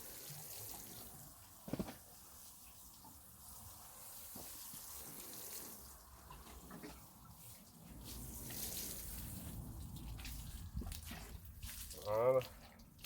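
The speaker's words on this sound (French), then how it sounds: "Donc là j'arrose bien, hein, parce que la terre était vraiment sèche." Water pours onto very dry garden soil where tomatoes, peppers and chillies are planted, a soft continuous splashing and trickling that swells toward the end, with a few faint knocks and outdoor background.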